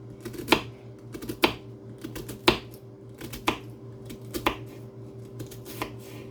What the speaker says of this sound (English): we're going to julienne cut these